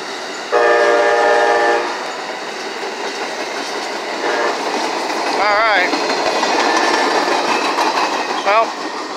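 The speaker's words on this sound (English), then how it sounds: "There it is. The Amtrak. Amtrak number 4614." Amtrak passenger train with locomotive 4614 passing through Effingham, Illinois, its horn sounding in a long blast, then shorter blasts, over a continuous rumble and rail clatter, with a voice talking briefly.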